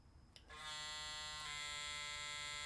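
A Kemei KM-2030 hair clipper switching on after a click, then a steady close electric buzzing hum that runs on without break, with no one talking.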